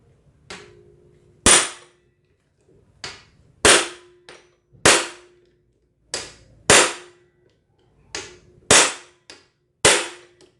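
Sharp, loud metallic bangs from hammer blows on a wrench with a 17 mm socket, loosening a bolt on a Suzuki Satria FU 150 engine, struck in paired bursts every second or so with ringing decays, close and without talk.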